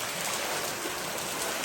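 Rainwater pours steadily into a bucket in Kullu, a loud continuous hissing splash of running water with no pauses and no voices over it.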